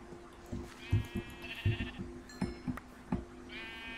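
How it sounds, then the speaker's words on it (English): Sheep bleating in the video game Minecraft, several short wavering bleats repeating over about four seconds, fairly close and clear with a low game background underneath. "Hello, sheep."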